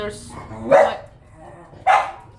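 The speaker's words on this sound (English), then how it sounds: "my dog was barking" A pet dog barks twice indoors, two sharp mid-loud barks about a second apart, with another dog audible outside the house.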